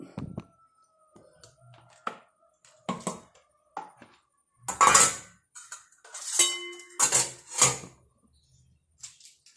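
Pots, plates and cutlery being washed in a home kitchen in the morning: close, intermittent clinks, knocks and clatters in irregular bursts with quiet gaps between.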